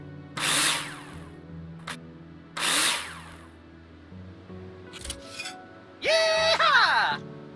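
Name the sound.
drill screwing in wall profiles in Builder Simulator video game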